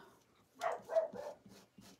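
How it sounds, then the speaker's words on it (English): A dog barks outdoors at a distance, a burst of several muffled barks in quick succession, moderately faint. "I hear the dog outside barking."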